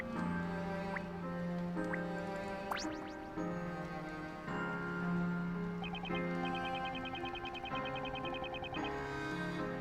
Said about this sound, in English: The water's just shooting out of there, huh?